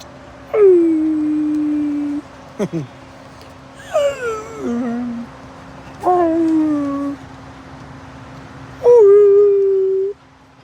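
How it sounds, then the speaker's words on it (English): Dingoes howl at night in long, wavering calls, four separate howls rising and falling with short gaps between them, loud and fairly close over a steady low hum. "these guys were howling. The other dingoes were howling."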